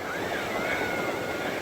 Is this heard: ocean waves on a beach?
yes